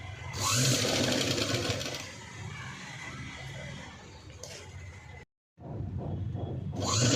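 Sewing machine stitching lace around the neckline of a patchwork blouse, running in a loud steady whir that eases, cuts out briefly near the end, then starts again.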